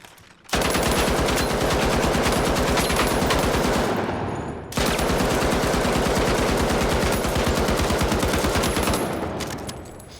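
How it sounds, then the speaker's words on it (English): Rapid automatic gunfire from a weapon in the video game The Finals, two long sustained bursts of fast, evenly spaced shots, loud and close, with a short break between them. "I've literally never shot this weapon ever."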